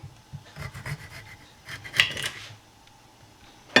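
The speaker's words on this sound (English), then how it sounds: "I like a lot of cucumbers. Let's cut a few more." Knife slicing cucumbers on a cutting board for a burger and potato wedges prep, a run of soft rasping cuts with a louder burst of chopping midway, close and quiet.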